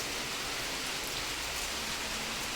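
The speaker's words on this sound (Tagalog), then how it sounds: "Tapos ngayon, ulan na naman." Steady, dense rain hissing without pause, loud and close, with no voices.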